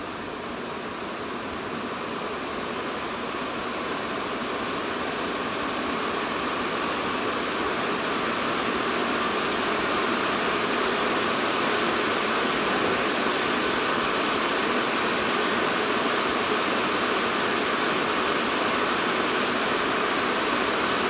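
Fans of an Acer Predator Helios Neo 16 AI gaming laptop spin at maximum speed, around 6,000 RPM, under heavy load. The result is a loud, steady rushing whoosh that swells slightly at the start and then holds constant with no voices.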